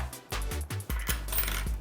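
Two Korean coins, a 100-won and a 500-won piece, clink down onto a scale in a quick run of sharp metallic taps, close and crisp with no speech.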